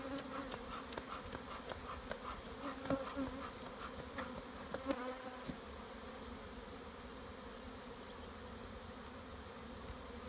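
Bees buzz around an abandoned hive being inspected, a dense continuous drone of many insects close by, with a few louder passes and soft handling clicks early on.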